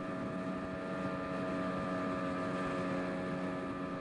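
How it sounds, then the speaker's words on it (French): Small motorboats speed down a jungle river at about 40 km/h, a steady, loud outboard engine drone with rushing water and wind buffeting the microphone throughout. "nous descendons les rivières Mapi et Kaboul à bord de petits bateaux à moteur filant à 40"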